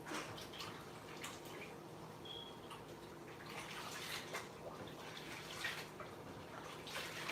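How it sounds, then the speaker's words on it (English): Soapy water splashing and dripping as a towel and a stove top are washed by hand, a steady low wash of liquid noise with occasional drips and no talk. "Wash my towel out too. Let me wash my stove again."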